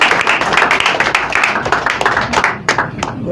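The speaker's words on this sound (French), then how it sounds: "Maman, applaudissez à Dieu." A church congregation claps together during a testimony service, with brisk overlapping handclaps close by and a few voices in the background.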